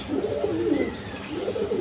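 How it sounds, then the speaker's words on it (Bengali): A bonded pair of pigeons, kept with their chick, coo in soft, throaty, rolling phrases that rise and fall over about two seconds, heard close up with no talking. "এখানে এক পেয়ার বন্ডিডেড কবুতর আছে"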